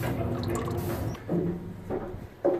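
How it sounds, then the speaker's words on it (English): Engine flush oil drips from a 1997 Ford F-250 7.3L diesel during an oil change, a few soft, close liquid drips and splats at irregular intervals, with no speech. "Just dripping, and you can see how the flush really delaminates that oil."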